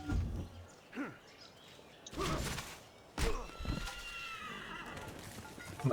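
A horse whinnies in distress as it is hurt in Civilization V, with a few short neighs and thuds scattered among quieter game sounds, moderately loud.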